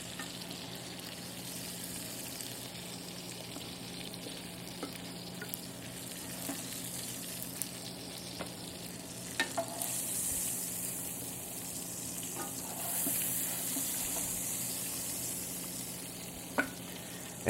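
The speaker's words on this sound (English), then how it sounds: "We're browned on both sides, and now I'm going to pull the meat out." Veal osso buco browning in a hot pan, a steady even sizzle running without a break and carrying a few faint clinks.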